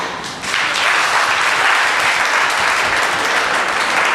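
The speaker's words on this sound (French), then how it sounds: "On applaudit encore, mesdames et messieurs." An audience at a school ceremony breaks into applause that jumps in loudly after a brief moment and holds as a full, even roar of clapping from many people.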